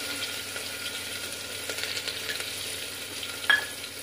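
Garlic, asafoetida, onion and crushed ginger fry in ghee inside a pressure cooker, a steady moderate sizzle with light stirring scrapes and one sharper clink near the end.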